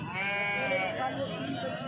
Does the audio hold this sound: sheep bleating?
yes